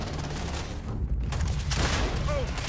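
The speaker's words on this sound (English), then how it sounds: "that's the grenade launcher" A grenade launcher firing in the video game Starfield, heard as a continuous roar of gunfire and blasts with booming low end, loud and close, and a voice speaks partway through.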